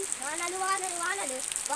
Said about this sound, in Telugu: వర్షం ఇంకా ఎక్కువైంది కానీ అస్సలు ఆగట్లేదు